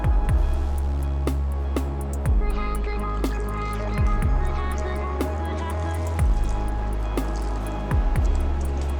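Water drips and trickles close by in repeated small splashes, over a low steady hum.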